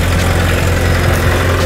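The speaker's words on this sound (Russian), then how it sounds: "Для холодного движка нормальный запуск." A car engine idles steadily after a cold start with the hood open, a loud, close, continuous low rumble and hum with a faint whirring vibration, no voices.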